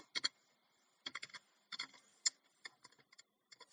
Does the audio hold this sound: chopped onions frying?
no